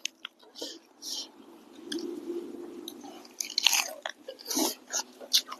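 Close, crunchy bites and wet chewing of a giant fresh cucumber and raw vegetables, eaten alongside a spicy Shan-style chicken feet salad and rice noodles, with repeated crisp snaps and squishy mastication in an uneven rhythm.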